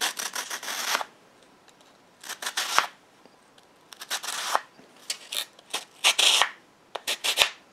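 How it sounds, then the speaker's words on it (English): Sandpaper wrapped around a wooden block rubbed along a wood edge for a shield prop, heard as short, close, scratchy strokes in quick irregular bursts with brief quiet gaps. "I'm just going to use a block of wood with some sandpaper wrapped around it."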